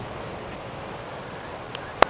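Ocean surf at the beach in Meloneras, Gran Canaria, on a calm day: a soft, steady wash of waves with low rumble, faint and continuous, with two brief sharp clicks near the end.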